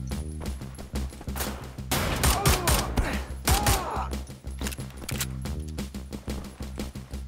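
Rapid gunfire fills a Wolfenstein: The New Order battle, with dense overlapping bursts and repeated shots running throughout over an ongoing game soundscape, loud and close.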